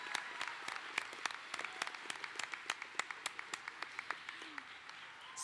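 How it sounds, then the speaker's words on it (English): Scattered, fairly faint applause fills a commencement ceremony hall for Academic Excellence Award recipients, individual hand claps standing out in a steady, uneven rhythm. "Please join me in a round of applause for all of our Academic Excellence Award"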